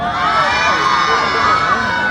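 A crowd cheers and shrieks at a gay costume pageant, loud sustained high-pitched screams and yells from many voices close by, unbroken for a couple of seconds.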